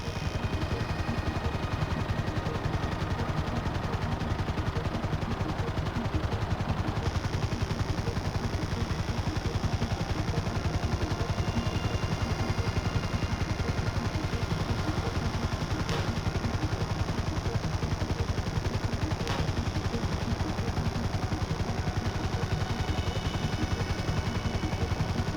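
Sustained gunfire rings out in the Grand Theft Auto V mission Surveying the Score, shots fired from above down into a target, a dense steady clatter running the whole time with engine noise underneath.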